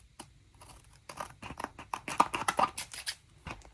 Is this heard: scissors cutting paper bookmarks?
yes